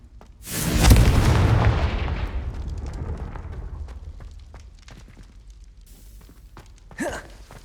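The Confringo blast spell in Hogwarts Legacy goes off as a loud, heavy explosion with a deep rumbling boom that fades slowly over several seconds. Scattered crackles follow, then a brief whoosh near the end.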